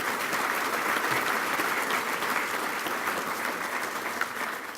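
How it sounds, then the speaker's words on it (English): A roomful of people at a touchdown club luncheon give sustained applause for sponsors, a thick, even wash of clapping that holds steady throughout. "Let's give a round of applause to all of our great sponsors,"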